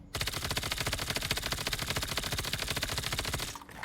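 Rapid automatic gunfire at practice targets in a mobile shooter game, a fast, evenly spaced burst of sharp shots lasting a few seconds, close and loud with nothing else over it.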